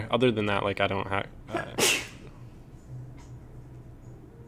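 A single sharp sneeze bursts out right after someone speaks in a casual livestream chat, brief and close, followed by quiet room tone.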